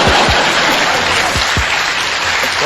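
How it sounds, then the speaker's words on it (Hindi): An audience applauds steadily and loudly in a hall during a humorous Hindi speech about Nehru and Patel, the clapping dense and continuous with a few low thumps, and no voice speaking over it. "और अब आपकी तालियां उठेंगी"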